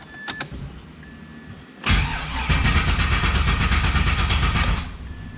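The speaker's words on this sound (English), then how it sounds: "Let's go over real time and show you how fast the car cranks." A car engine cranks without starting because it is out of gas, a few clicks giving way to a fast, rhythmic starter churn that runs loudly for about three seconds and then stops.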